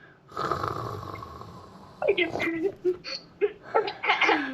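A child imitates snoring with a long drawn breath followed by a run of rhythmic, breathy snorts and giggly bursts, close to the microphone.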